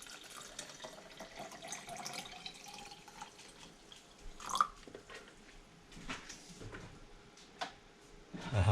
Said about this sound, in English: So I just mix the water with the sugar first.